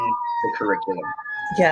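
A police siren passing outside holds a steady tone that sits faintly under a person speaking. The talking continues throughout.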